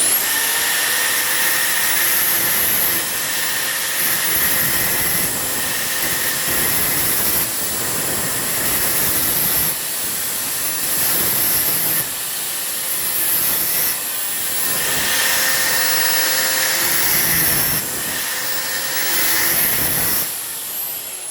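An angle grinder works steadily along a steel box, gently stripping primer, a continuous high whine with rough grinding texture that swells and dips in pitch as pressure changes, loud and close with no talk.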